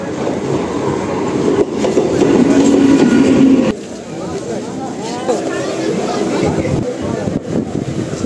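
A local train near Kolkata rolls along with a steady rumble and clickety-clack of the carriages, heard from inside, while people talk over the noise.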